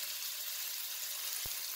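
Strips of roast meat sizzle steadily in a hot pan, with a constant bright hiss and a single soft thump partway through.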